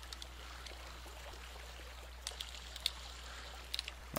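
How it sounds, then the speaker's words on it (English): Quiet, steady flowing water in the video game Bloodlust: Shadowhunter, a soft continuous trickle with a low hum beneath and a few small drips or clicks near the end. "I kind of like the water."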